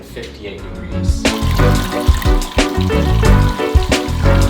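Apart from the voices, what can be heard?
pump recirculating water through home brewing mash tun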